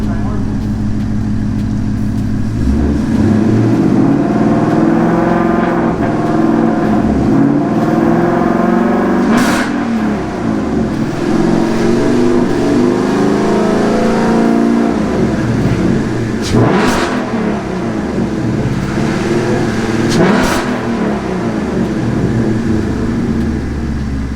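A 2018 Ford Mustang GT V8 with nitrous fitted roars and revs loudly up close, holding a heavy idle between sharper throttle blips, with a voice talking over the engine.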